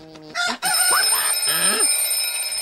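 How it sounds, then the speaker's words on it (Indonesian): An alarm clock rings on a farm in the 1995 film Babe, where it stands in for a rooster. The ring is loud and steady, with rising and falling tones over a sustained high whine, and no talk. "Tetapi Ferdinand digantikan oleh sebuah jam waker yang Ferdinand sebut sebagai mesin ayam"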